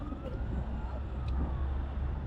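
A fire engine's siren wails in the distance as it passes along a road after a bus fire in Vietnam, mixed into constant traffic rumble and engine noise without anyone speaking.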